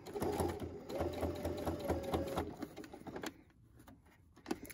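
Sewing machine running a straight stitch along a fabric face mask channel holding elastic, a steady rapid mechanical whir for about three seconds before stopping, close and fairly quiet.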